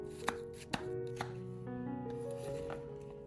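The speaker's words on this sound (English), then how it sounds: "Slice the onion thinly." Knife thinly slicing half a small red onion on a cutting board, three soft distinct chops early, then quieter cutting under a faint steady background hum, close and gentle.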